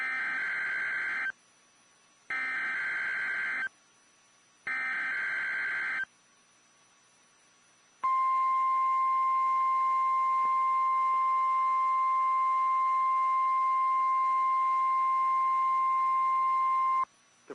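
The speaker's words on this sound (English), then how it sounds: "The preceding was a test of the National Weather Service warning alarm tone." A National Weather Service warning alarm tone test plays loud and clear: three short, evenly spaced electronic beep bursts, then a long, steady, piercing tone that holds for about nine seconds before cutting off.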